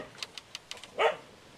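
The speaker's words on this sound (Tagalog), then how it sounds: "Nagulat ako sa ano? Sa tuta, Lola Elena?" A puppy gives a quick run of thin, high yips followed by one louder, fuller bark, close by over a quiet background.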